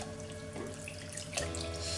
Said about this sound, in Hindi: अब हम इस ठंडे पानी से इसको धो देंगे